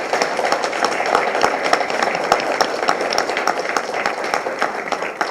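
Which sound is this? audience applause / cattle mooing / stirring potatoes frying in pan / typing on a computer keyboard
audience applause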